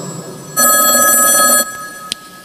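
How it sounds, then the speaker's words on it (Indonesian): A telephone rings during an Islamic religious lecture, one loud, steady electronic ring lasting about a second against a quiet room, followed by a brief faint click. "Ada telepon masuk?"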